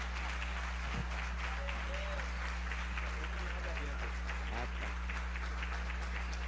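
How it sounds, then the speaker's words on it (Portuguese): A church congregation claps during a Portuguese-language worship service, a continuous spread of applause heard somewhat distantly over a steady electrical hum, with faint voices mixed in. "Vamos aplaudir Jesus?"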